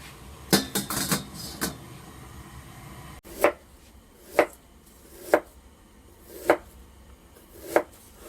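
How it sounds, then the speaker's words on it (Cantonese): Ginger and scallions are chopped with a knife on a cutting board, a quick cluster of knocks and then slow, evenly spaced sharp chops, close up with no talking. "咁用個切熟肉嘅砧板切啲薑葱"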